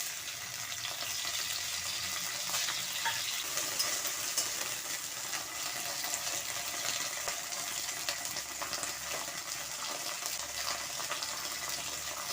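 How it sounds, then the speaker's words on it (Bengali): Okra frying in a little oil in a wok gives a soft, continuous sizzle that holds fairly steady, with no voices. "প্রথমে আমি সামান্য তেল দিলাম, দিয়ে ঢেঁড়সগুলি ভেজে নেব।"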